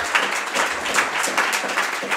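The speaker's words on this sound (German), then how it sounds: "Wir fangen mal an mit so einem mittleren Applaus." Medium-strength applause from a podcast audience testing an applause meter, a steady, fairly loud patter of many hands clapping with a regular rhythm and no talk over it.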